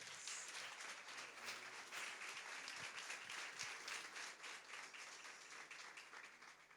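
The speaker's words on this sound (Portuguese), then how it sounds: "Aplauda o Senhor Jesus Cristo." A church congregation applauds during a family service, with steady, dense clapping that holds at an even level throughout, filling the room without any talk over it.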